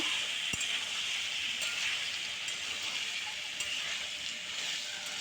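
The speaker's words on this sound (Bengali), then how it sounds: "একটু হালকা হলুদ লবণ দিয়ে তেলের পুরো ভেজে নেবেন" Taro roots and potatoes with turmeric and salt frying in hot oil, a steady close broadband sizzle throughout with a brief knock near the start.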